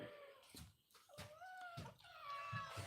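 Several hungry cats meow for food, close by and faint, with repeated drawn-out rising and falling cries and some shuffling noise between calls.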